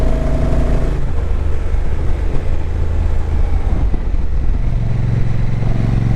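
A 2025 Honda NT1100 motorcycle rides in drive mode, its engine a loud steady rumble under heavy wind rush with a gear change partway through, no talking.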